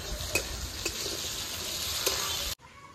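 Onion sizzles and is stirred in a hot pan for a desi chicken curry, a continuous close frying hiss with a few scraping strokes, then it cuts off abruptly near the end.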